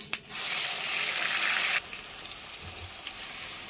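Onion and tomato paste drops into hot mustard oil with black cumin and crushed ginger, making a loud, steady sizzle that cuts off abruptly partway through, leaving a quieter crackle with a few soft knocks.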